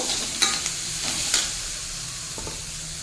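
A ground paste of coriander, cumin, fennel and black pepper fries and gets stirred in a pan, loud close sizzling with a few scraping strokes early on, then settling into a steady hiss.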